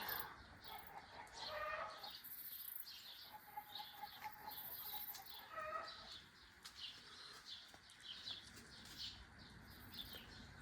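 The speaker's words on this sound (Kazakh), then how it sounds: "Құстардың дауысы. Сосын көршіміздің тауықтарының дауысы." Outdoor ambience with several birds chirping and calling throughout, scattered tweets near and far, with faint clucking from a neighbour's chickens among them.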